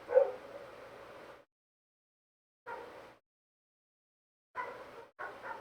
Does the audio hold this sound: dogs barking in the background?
yes